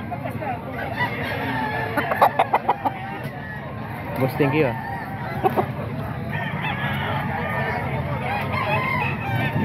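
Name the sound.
roosters crowing at a chicken market in Bocaue, Bulacan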